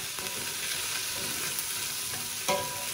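Round pimiento peppers frying in a pan with onions and garlic for Caribbean okra soup, a constant dense sizzle close by with a faint stir or clink near the end.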